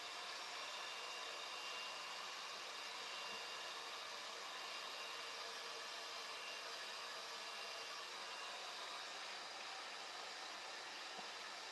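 A hair dryer runs steadily and loudly for the whole stretch while hair is blow-dried with a vent brush during a haircut, giving a constant broadband rush with no pauses or talk.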